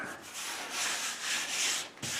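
Hand sanding of a wooden kitchen table top gives a steady, close rasping rub in repeated back-and-forth strokes with no talking.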